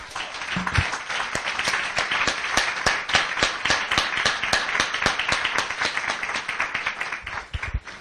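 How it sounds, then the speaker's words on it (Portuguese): Church congregation clapping in praise, a loud, even rhythm of many hands striking together in near unison, beat after beat throughout. "Vamos mais uma vez dar uma salva de palmas para o nosso Deus?"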